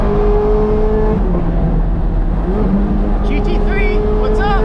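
Ferrari 430 Scuderia with a naturally aspirated, highly tuned engine, heard loud and close from inside the car as it revs and holds steady tones, dips slightly, then climbs again with rising harmonic sweeps near the end.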